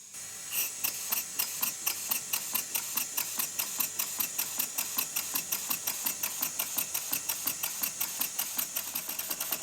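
A diabolical model steam engine runs on a soundboard atop a piece of Scotch-Brite, giving a steady, fast train of sharp mechanical ticks and clicks at an even rhythm, close and continuous with no talking.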